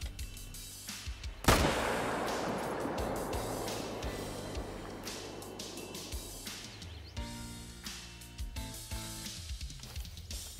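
A single sharp gunshot from a hunting rifle in the game Call of the Wild, with a booming report that trails off in a long rolling echo before faint ambience returns.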